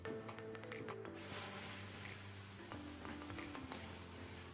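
Chicken masala for a Kannada-style chicken gravy fries in a lidded pan over medium-high flame, giving a steady, close sizzle with faint clinks and shifts of the food, and no talking.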